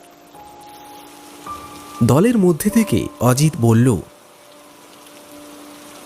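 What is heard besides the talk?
light drizzling rain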